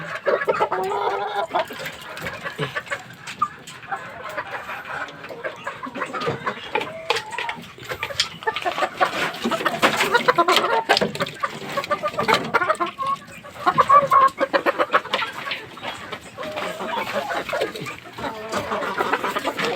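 A kanaway stag gamefowl rooster clucks repeatedly at close range in a farmyard setting, giving short irregular bursts with other fowl noises around it.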